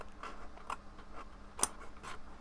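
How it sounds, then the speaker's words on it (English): Quiet fine scissors snip paper for a box fold card in a series of small, irregular cuts, with one sharper click standing out partway through. "Get my finer scissors in here."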